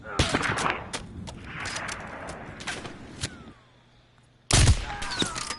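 Gunfire in the video game Modern Warfare 3 on PS4 Pro, a burst of rapid loud shots and cracks, a quieter lull, then a sudden sharp blast with ringing debris at the end.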